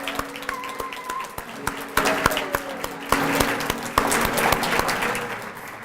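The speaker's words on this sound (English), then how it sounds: "Let's give them a warm round of applause." Audience applause for restaurant staff called out at a reception, a burst of many hands clapping that builds and thickens over several seconds, with sharp individual claps standing out near the front.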